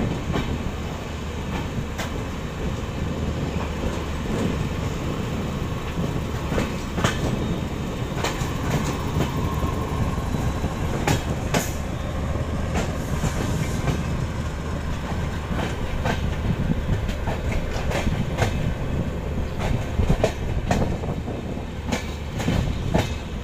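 A metre gauge passenger train out of Mavli runs at speed with a continuous rumble and rhythmic wheel clatter on the rails, heard steadily throughout.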